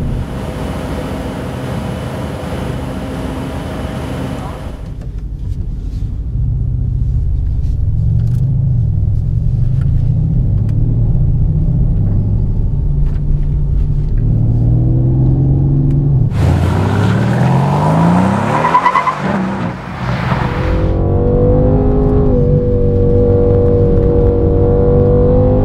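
A 2019 Mercedes-AMG C63 S Coupé drives along a country road, its engine droning loud and steady from the cabin, then revving harder with rising, sweeping tones as it accelerates and shifts through the gears.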